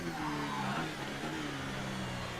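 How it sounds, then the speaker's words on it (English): A car in the F1 2018 video game slides on a wet Spa track, a steady engine drone with a long tonal squeal sweeping across, moderately loud, no voices. "We're just skidding."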